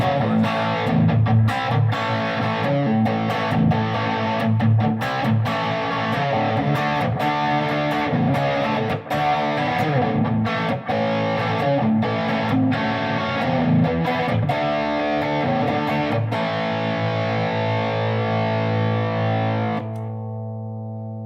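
An electric guitar with mild, crunchy distortion plays sustained chords and riffs continuously, loud and close, before ringing out at the end.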